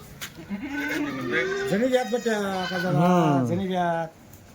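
Kathiawadi dairy goats bleat loudly and close by in long, wavering calls that overlap almost continuously for about four seconds, then stop abruptly.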